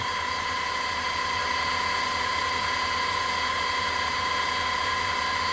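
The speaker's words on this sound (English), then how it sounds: "here you can see the RPM of the motor." A small homemade mini mill motor runs at speed with reduction gearing, making a steady, close mechanical whine and hum with no change throughout.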